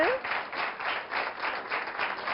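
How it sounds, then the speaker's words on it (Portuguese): Studio audience applause on a television health talk show, a brief steady round of clapping with rhythmic surges, fairly close and not covered by talk. "Uma salva de palmas para a Hermínia."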